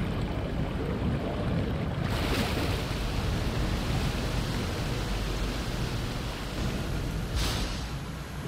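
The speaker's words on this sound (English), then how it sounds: "Oh, the water's coming back down." Water rushing back down in the video game SOMA, a continuous loud broadband roar like surf with two brief swells of hiss, no voices.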